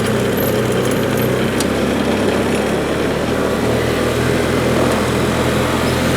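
A 1993 Honda 4514 hydrostatic lawn tractor engine runs close by at a steady, modest speed, a continuous throaty putter with no revving and no voices.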